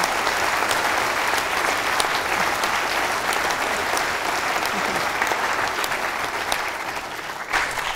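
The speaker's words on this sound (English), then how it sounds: "can we please have a huge round of applause" Sustained applause from an audience at a Manchester space science talk, thick even clapping holding steady throughout, easing slightly near the end.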